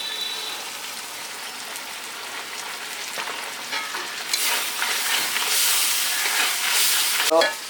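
Spiced chicken and soya masala with chilli paste and cumin being sautéed in a pan; a quiet hiss swells into a louder, sustained sizzle with occasional stirring, close up and without talk.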